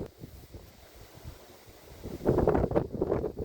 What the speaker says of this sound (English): hearing the wind outside, which is quite windy